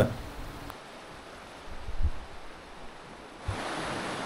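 A mountain stream rushes steadily with a broad, continuous roar, growing a little louder toward the end, with occasional low bumps of wind.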